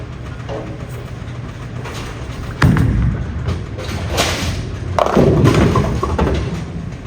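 A Roto Grip DUO bowling ball rolls down an alley lane with a continuous low rumble, punctuated by a couple of loud thuds as it lands and strikes, set against ambient bowling-center noise.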